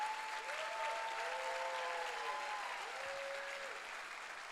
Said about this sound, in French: Oui, applaudissons-les